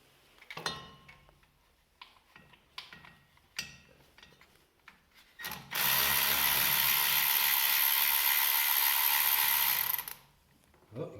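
A ratchet backs out a bolt on an International pickup, starting with scattered clicks and clanks, then a long loud continuous ratcheting whir for several seconds, close up, before the clicking resumes.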